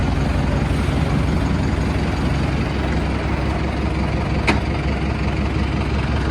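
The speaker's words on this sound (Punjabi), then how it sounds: "ਆ ਚੱਲਿਆ ਟਰੈਕਟਰ" A tractor engine runs loud and close with a steady low rumble throughout, idling at a constant level with no clear change as it sets off.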